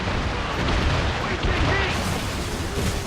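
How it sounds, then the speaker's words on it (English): Ship mortar fire in a naval battle in Assassin's Creed Rogue: dense, loud rumbling booms and blasts layered over one another, with a thick low roar throughout and no clear gaps. "Make good use of your own mortars, Shay."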